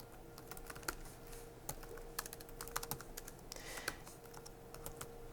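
Fast, light clacking of keys on a computer keyboard as a UNIX command is typed, a steady patter of close taps with a faint hum underneath.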